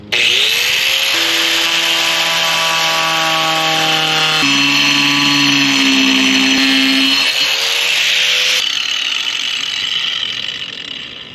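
A power saw cutting an opening through the fiberglass roof of a camper van, a loud, steady whining buzz with shifting pitch as the blade moves through the material, running continuously for about eleven seconds before easing off, with no talk.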